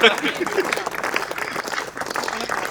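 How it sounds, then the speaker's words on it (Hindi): Audience clapping at a Hindi poetry recital, a crowd's applause rising sharply at the start and continuing as a rough, uneven patter, with a voice talking over it. "तालियां बजाइएगा।"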